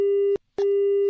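A disconnected phone call's busy tone: two loud, steady electronic beeps, each lasting about a third to half a second, separated by a short silence, clean and alone.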